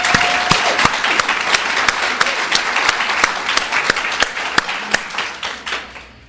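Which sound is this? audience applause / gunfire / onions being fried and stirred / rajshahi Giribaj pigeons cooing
audience applause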